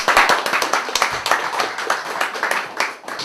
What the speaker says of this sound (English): So let's give Ben a round of applause.